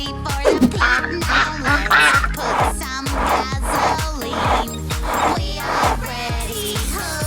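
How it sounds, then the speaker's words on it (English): Loud, repeated duck quacks in a rapid series, raspy and nasal, sounding close, with a low rhythmic musical thump underneath. "Duck."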